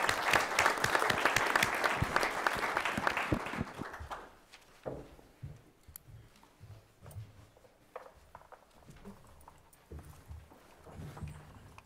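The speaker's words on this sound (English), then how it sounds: "Everybody, a round of applause for them." A round of applause from the audience at a town board meeting, loud and dense for about four seconds, then thinning into scattered claps and room noise.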